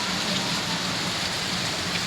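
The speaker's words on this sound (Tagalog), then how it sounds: "lakas ng tugunggong ng ulan" Heavy rain pours down steadily in a dense, even hiss close by, with no break across the short stretch and no voices.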